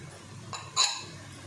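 A couple of light clinks of dishes or cutlery being washed in a kitchen, one faint tap then a brighter ringing clink, close and brief.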